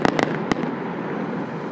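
Fireworks from a 36-shot cannon cake at a winter festival display: three sharp, loud bursts in the first half second, then a rumbling, crackling tail fading out, with no talk.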